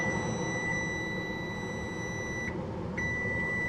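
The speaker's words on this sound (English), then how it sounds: "Okay, timer's done." A kitchen timer beeps continuously at a high pitch after hard-boiled eggs rest, with one brief break before the tone resumes, heard alone over faint room noise.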